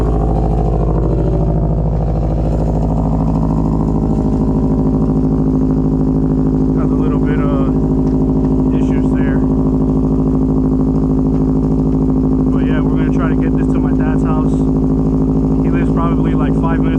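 A Subaru WRX fitted with an aftermarket exhaust pipe idles with a loud, deep, steady drone, while a person talks over it.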